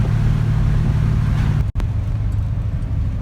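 A Ford Fox-body 5.0 V8 rumbles loudly and close, its low engine drone steady before a sudden brief dropout, then continuing with a slightly rougher, lighter roar.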